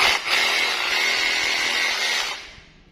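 A small cordless battery chainsaw runs steadily with a high buzzing whine for a few seconds, then winds down near the end.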